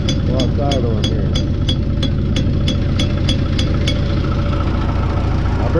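An engine idles roughly with a steady low rumble and a regular ticking knock on top, loud and close, running without a break.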